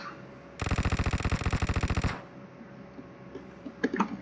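Automatic gunfire in PUBG Mobile: one loud, tight burst of rapid, evenly spaced shots lasting about a second and a half, then near quiet with a few faint clicks and thuds.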